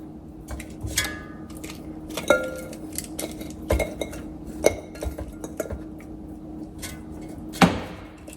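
Frozen chicken wings clinking into an air fryer basket, a handful of separate hard clinks and knocks spread over several seconds, close and fairly quiet, with soft rustling between them.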